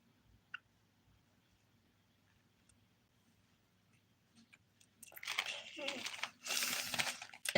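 A plastic bag is crinkled and pressed down during a dip-powder manicure. Near-silence with a few small ticks comes first, then a burst of loud, close crackling and rustling near the end.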